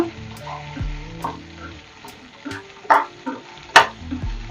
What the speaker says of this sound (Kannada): ಇವಾಗ ಬೆಂಡೆಕಾಯಿ ಹಾಕ್ತಾ ಇದ್ದೀನಿ. ಬೆಂಡೆಕಾಯಿ ಚೆನ್ನಾಗಿ ಹುರ್ಕೊಳ್ಳೋಣ.